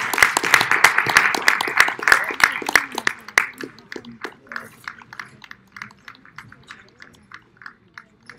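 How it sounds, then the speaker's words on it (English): Audience applause for a panel at a blockchain forum, dense clapping at first that thins into scattered individual claps, with a voice speaking over it. "round of applause, I guess"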